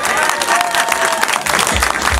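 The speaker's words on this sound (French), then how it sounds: "je ne dis même pas d'applaudir, mais ils applaudissent" Loud crowd applause at a single launch event, thick continuous clapping close by with a few louder claps and crowd noise under it for a couple of seconds.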